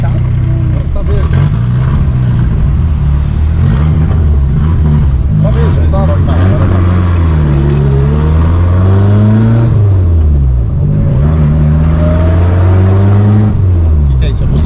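Turbocharged forged-engine Chevrolet Corsa revving hard, loud and close, with repeated rising and falling sweeps of engine pitch as it accelerates, while people talk over it.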